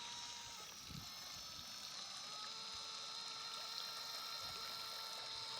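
Boat motor pushing a floating Toyota Land Cruiser LC70 through water, a faint steady engine drone mixed with sloshing and trickling water, with a few soft knocks at the start.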